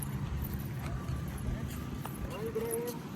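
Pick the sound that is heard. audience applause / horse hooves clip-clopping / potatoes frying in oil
horse hooves clip-clopping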